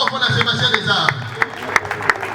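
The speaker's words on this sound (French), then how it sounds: "Très fort, applaudissements." Applause at a charity gala, a crowd clapping with sharp scattered claps over steady crowd noise and talk.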